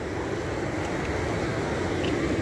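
The Balakovo waterfalls give off a steady broadband rush of water, loud and unbroken, with no voices.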